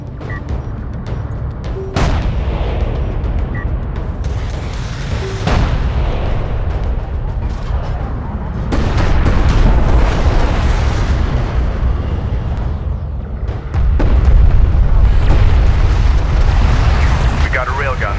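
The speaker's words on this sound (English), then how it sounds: "We got a railgun under fire. Armored vehicle is taking fire." A running battle in the video game Homeworld: Deserts of Kharak, with dense gunfire and heavy explosions rumbling almost continuously. The blasts grow louder toward the end, and radio-style voices talk over the combat.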